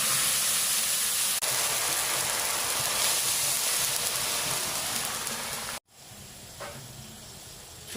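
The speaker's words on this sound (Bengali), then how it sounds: "2 কাপ জল দিয়ে দেবো।" Water poured steadily into sugar in a pot to make syrup, a loud continuous rushing hiss that stops abruptly, followed by a softer trickle.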